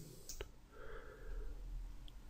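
A single quiet mouse click on a "close all" button in trading platform software, set against a faint background hiss.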